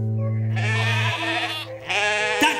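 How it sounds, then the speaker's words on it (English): Thirsty sheep in a children's animated farm scene bleat loudly and close: a long wavering bleat followed by two shorter calls, clear and alone. "Our sheep were getting thirsty."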